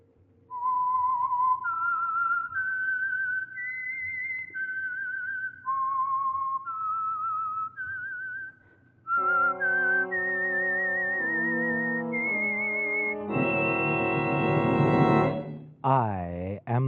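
Signature whistled theme of the Signal Oil radio drama The Whistler: a lone melodic whistle stepping through a rising tune for about nine seconds, then swelling into a loud orchestral sting that closes the phrase.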